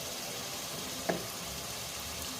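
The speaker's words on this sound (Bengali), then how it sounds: "এবার সামান্য পানি দিয়ে মশলাগুলো কষিয়ে নেব," Spices with a little water sizzle quietly and steadily in a pan while they are being cooked down, with one brief sharp tap near the middle.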